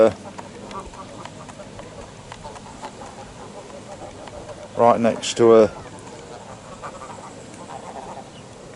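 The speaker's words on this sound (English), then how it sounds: "family of ducks." A family of tame ducks on the grounds of Rufford Abbey in Nottinghamshire gives two short, close bursts of quacking midway, with someone speaking softly around them.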